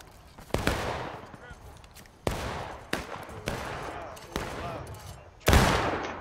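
Gunfire from target shooting at a prize-shooting event by Dunker Church, with about seven loud, sharp single shots spaced irregularly, each with a short echoing tail, and people talking faintly in German between shots.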